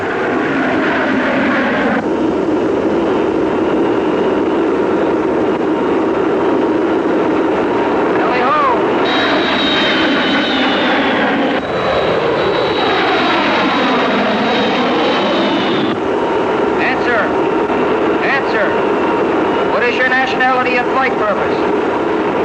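Military aircraft passing overhead, a loud continuous roar with whining engine tones swelling and fading, under tense radio chatter and voices.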